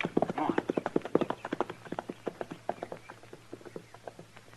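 Horse hooves clip-clop in a quick, even rhythm in an old western radio drama, close at first and then gradually fading as the horse moves off.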